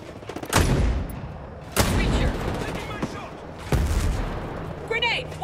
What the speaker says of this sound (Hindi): बहुत खतरनाक हमला हो रहा है, बहुत चारों तरफ से गोलियां पड़ रही है यहाँ पे